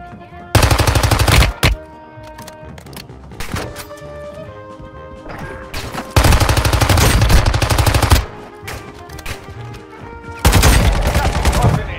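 Automatic gunfire from the mobile shooter game Warzone Mobile comes in three long, loud, dense bursts, separated by quieter stretches of lighter in-game sounds.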